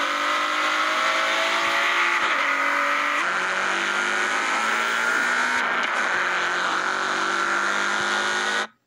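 A car engine in Forza Horizon 5 holds a loud, steady drone for the whole clip, its pitch stepping up as the gears change, with a faint hint of tyre noise and no talking.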